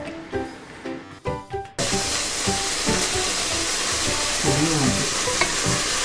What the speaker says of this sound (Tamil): புதினா கொத்தமல்லி 2 போட்டாங்க. லைட்டாக வதங்கணுங்க.